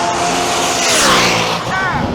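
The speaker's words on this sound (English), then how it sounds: "Damn, that 1UZ turbo dragster was super fast." A 1UZ turbo dragster roars down a drag strip at a drag racing event, a loud, close engine blast that swells as it passes, with crowd noise mixed in.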